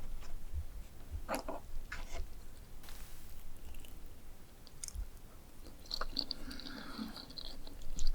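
Close, moist chewing and crunching of macaroni with egg and cheese, irregular bites and squishy mouth sounds repeating over several seconds with no talking.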